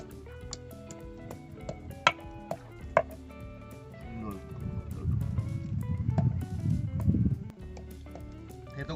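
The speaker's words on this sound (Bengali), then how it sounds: "প্রথমে আমরা গোটা গরম মশলাগুলোকে একটু হালকা করে হামনদিস্তায় থেতো করে নেব। এলাচ, দারুচিনি আর লবঙ্গ।" Whole cardamom, cinnamon and cloves crushed in a mortar and pestle, a few sharp knocks followed by a sustained gritty grinding scrape, close and fairly quiet.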